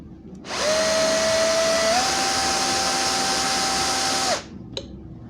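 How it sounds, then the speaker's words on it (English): Close and loud, a power drill runs for about four seconds to back screws out of a wall-mounted whiteboard, its motor whine rising slightly in pitch partway through before stopping, followed by a faint click. "let's try to unscrew it"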